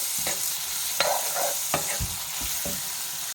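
Fennel, pepper, cinnamon, clove and cardamom sautéing in a pan for Telangana mutton curry: a low sizzle broken by several sharp spoon scrapes and taps against the pan, close up, with no talking.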